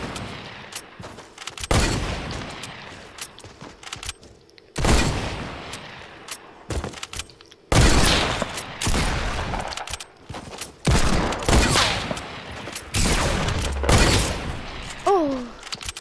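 Sniper rifle gunfire in the Fortnite video game: loud, separate shots and bursts ring out every second or two across the scene, with quiet gaps between them.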